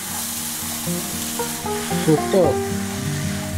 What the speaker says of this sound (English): I'm gonna give it a good stir and let it simmer for at least 5 to 7 minutes.